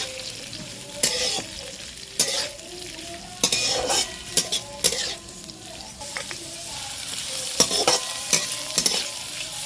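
Vegetables stir-frying in a hot pan for chowmein, a continuous sizzle broken by repeated loud scraping strokes of a metal spatula against the pan at irregular intervals, close and alone.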